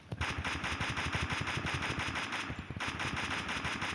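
Sustained automatic gunfire in the video game Free Fire, rapid evenly spaced shots forming a loud, close rattle that pauses briefly midway, then resumes at the same pace, with no speech.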